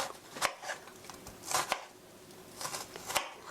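Sharp knife taps scoring halved button mushrooms at half-centimetre intervals on a cutting board, a few crisp close clicks in loose clusters with quiet gaps between.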